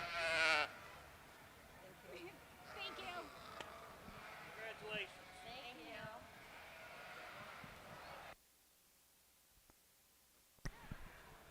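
Yearling ewes bleat at an open breeding sheep show, a loud bleat at the start and further calls through the middle amid crowd chatter and announcer talk, before a quieter stretch near the end.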